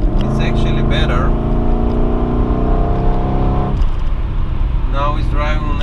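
An Audi Allroad C5 4.2 V8 accelerating on LPG with uneven fuel cut-off, heard from inside the car: the engine rises in pitch, then abruptly drops off partway through before picking up again, loud and close, with no talk.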